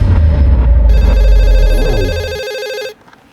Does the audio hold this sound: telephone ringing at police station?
yes